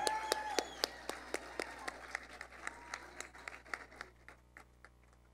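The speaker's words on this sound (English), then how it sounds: "Another round of applause for Mr. Rangel from J.M. Hanks High School." Scattered, thinning applause from an audience honoring a teacher at a school district Teacher of the Year event, with distinct individual claps tapering off over several seconds.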